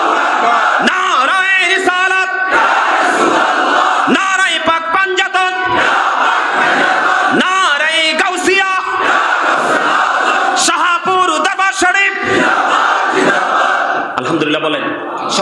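A large rally crowd in Dhaka answers the takbir call with loud, repeated shouts of Allahu Akbar, the massed voices swelling in rhythmic waves that fill the whole stretch.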